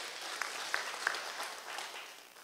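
Scattered applause from an audience honouring the governor at a church gathering in Kiambu, fairly faint and distant, with a few sharper claps standing out from a steady wash of clapping.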